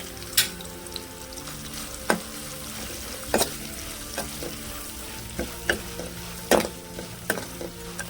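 Peanuts frying in a pan with a tempering of cumin, curry leaves and turmeric: a continuous sizzle broken by sharp spatter pops and stirring clatters, close and fairly loud, no talk.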